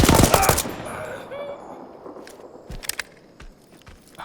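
Automatic gunfire from the tactical PvE extraction shooter Incursion Red River: a dense, loud burst at the start, then scattered distant shots and short volleys over a quieter background.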